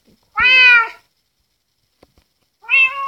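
An ocelot in a Minecraft-style video game gives two clear, separate meows: a longer, loud one at the start and a shorter one at the end, with silence between.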